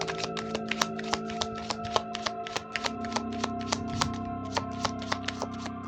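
Tarot cards shuffled by hand at close range, a quick regular run of crisp flicks and taps over a steady tonal background, with no talk.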